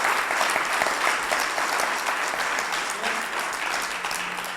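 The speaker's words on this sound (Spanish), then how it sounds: "Si le vas a dar un aplauso, dáselo fuerte," Congregation applauding during a sermon, a full, sustained round of clapping from many people that holds steady and then gently tapers off toward the end, with no talk over it.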